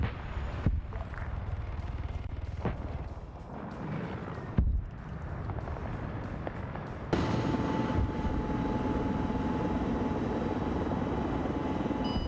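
An enemy Mi-24 helicopter in an Arma 3 battle gives off a loud, continuous rotor and engine roar, broken by a few sharp bangs and shifts in the noise as it flies.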